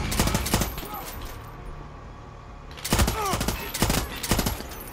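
Gunfire from a heavy-recoil weapon in Far Cry 6, loud rapid bursts of sharp shots at the start and again in the second half, with a quieter stretch of ambient game noise between them.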